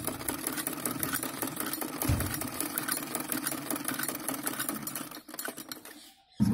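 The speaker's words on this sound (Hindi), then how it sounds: "अब इसकी हम सिलाई लगाएंगे।" A sewing machine stitches salwar fabric in a fast, steady, close-up mechanical rattle that runs for about five seconds before slowing and stopping.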